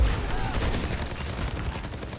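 Soldier 76 fires in sustained rapid bursts during an Overwatch 2 Stadium match, a dense, loud clatter of game gunfire with other battle effects mixed in.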